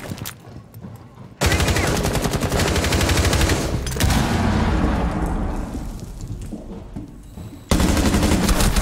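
Loud, close automatic gunfire from the Rainbow Six Siege video game fills most of the stretch in long sustained bursts, with sharp restarts after short pauses and almost no talk.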